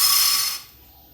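Sorghum grains are poured into a hot nonstick pressure cooker: a dense, bright rattling pour lasts about half a second, then cuts off to near silence.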